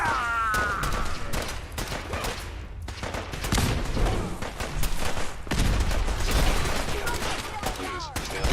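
Dense gunfire from a Battle of Bunker Hill battle video game crackles almost continuously, with loud overlapping shots and fusillades close up, plus brief metallic mechanism noises.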